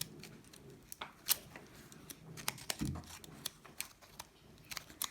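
Quiet snipping of scissors, a series of short irregular clicks and cuts close by, with no voices.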